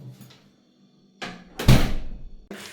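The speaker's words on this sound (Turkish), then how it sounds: "Dur dur kapıyı kapat." A door in a home is pushed shut, with a couple of close knocks and bumps followed by a loud thud as it closes, then another bump.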